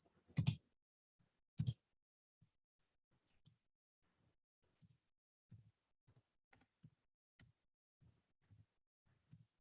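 Light, sparse keystrokes on a computer keyboard, a few soft taps spaced irregularly after two sharper clicks at the start, quiet and close with no voices.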